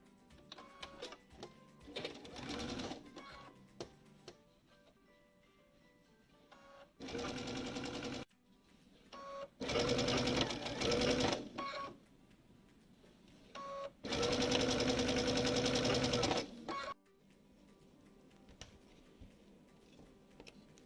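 A sewing machine stitches strips of black and background fabric for a log cabin flower quilt block, running in several distinct bursts of rapid, rattling stitching separated by quieter pauses with faint handling clicks.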